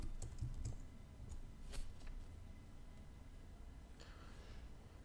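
Keys tapping on a computer keyboard while an email address and password are entered at a login, a light irregular patter of close clicks with a few louder strokes.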